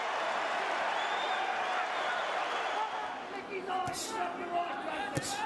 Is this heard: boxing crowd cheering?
yes